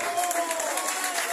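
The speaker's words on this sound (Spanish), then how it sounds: "Fuerte, fuerte, fuerte, fuerte el aplauso." Applause from a crowd at an end-of-year celebration, a short burst of dense, steady clapping with voices mixed in.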